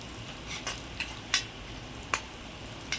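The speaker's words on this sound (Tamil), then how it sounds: "எப்பயுமே நீங்கள் வெங்காயம் வணக்கும் போது கொஞ்சம் உப்பு சேர்த்திங்கன்னா வெங்காயம் சீக்கிரம் வணங்கிடும்" Onions sizzle softly in a pan for chicken chukka, broken by a few light spoon scrapes and taps against the metal at irregular intervals.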